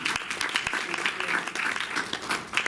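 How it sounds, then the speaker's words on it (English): An audience claps for a colleague called to the front at a medical ethics mentalism show, a brisk burst of many hands with sharp individual claps audible, steady and fairly close. "please a round of applause for our colleague"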